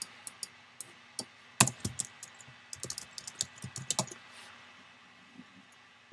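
Fast, irregular typing on a computer keyboard while a name is entered during a Windows 7 software install, with sharp key clicks in quick bursts and short pauses, close and clear with no talk.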